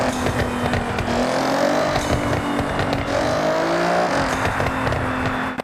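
A Nissan GT-R in the Forza Horizon 6 video game revs hard under load, its engine note rising and falling in sweeps with turbo whistles and crackles, loud and continuous until cutting off abruptly.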